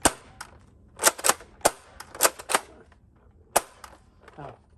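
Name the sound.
Nerf Rival Curve Shot Helix blaster firing downward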